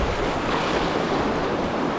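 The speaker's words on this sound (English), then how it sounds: "Play in the waves." Continuous rushing river waves and splashing churn close by, mixed with wind buffeting the microphone, while packrafting on a rainforest river; no talking.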